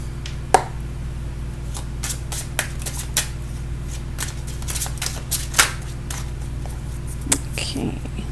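Tarot cards are shuffled close by in a string of quick, crisp riffling snaps and flicks over a low steady hum.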